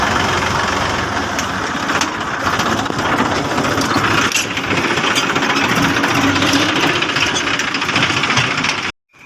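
Tractor engine running steadily while driving out to a farm field to work a rotavator, a loud close continuous diesel chug with rough knocking texture that cuts off abruptly at the end.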